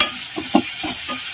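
Onion and tomato sauté in a pan for soup, a soft steady sizzle with several short scraping stirs of a spoon, close and brief, without speech.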